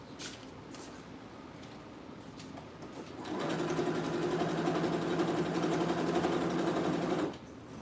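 A sewing machine stitching fabric for a skirt: faint handling at first, then a steady, fast mechanical whirr of continuous stitching for about four seconds before it stops abruptly.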